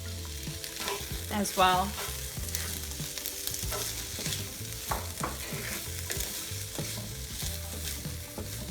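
Bell pepper, cooked beans and garlic fry in a pan with a steady sizzle under repeated scraping stirs and clinks of a utensil, and a brief spoken phrase rises over the cooking partway through.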